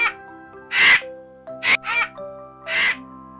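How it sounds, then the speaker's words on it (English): Four harsh, raspy calls from a vulture come in short bursts separated by pauses. Each is loud and close against a steady tonal backing. "V for vulture."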